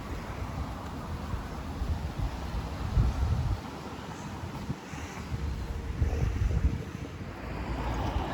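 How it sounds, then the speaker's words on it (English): Coastal wind in Alcudia, Mallorca buffets the microphone with a continuous rumbling roar that swells and eases in gusts, with no speech. "The wind seems to have died down a bit now"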